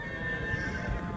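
Horse whinnying at a crowded livestock market in Saryagash, a brief strained neigh over low crowd and animal bustle.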